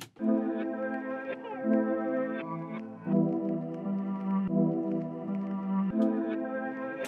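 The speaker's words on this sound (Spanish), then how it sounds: "la guitarra principal que es esta" A clean guitar plays a steady repeating melodic figure of plucked notes, moderately loud and close, with no voices.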